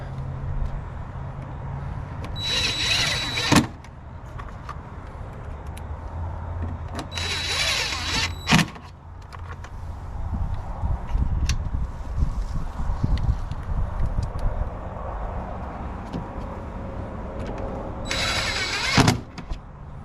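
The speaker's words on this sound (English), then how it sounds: "Put the 3 screws back in." A power driver runs three short whirring bursts while fastening screws back into the fuel door panel of a Ford Transit van, each burst spaced seconds apart, with quiet handling noises in between.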